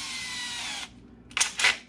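A power drill with a bit of roughly one tenth of an inch bores a hole in a Collings C100 Deluxe acoustic guitar for an LR Baggs Anthem piezo pickup. There is a steady, close whine for almost a second, then two short bursts.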